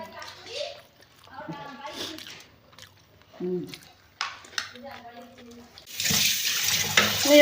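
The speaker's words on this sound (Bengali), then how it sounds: "আর এই যে এখন আমি মাছ ধুয়ে নিচ্ছি" Tap water gushes loudly into a sink during the last second and a half as fish is washed, following a stretch of someone talking with small kitchen sounds.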